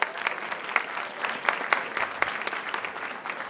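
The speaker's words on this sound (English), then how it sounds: "Let's give our young people a round of applause." An audience at a community summit in Chicago claps steadily for young people, a dense, even round of applause that holds at the same level throughout.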